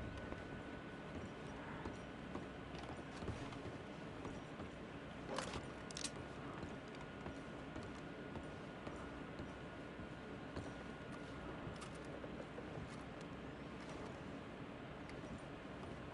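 A horse in the Red Dead Redemption 2 video game clops faintly and steadily at a distance, its hooves blending into a constant ambient background.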